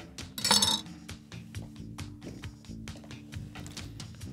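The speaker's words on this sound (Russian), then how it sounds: "Теперь я брошу на сковородку лук." Chopped onion lands in a frying pan with a bright clatter and short metallic clink, followed by scattered light taps and sizzling kitchen sounds, close by and moderately quiet.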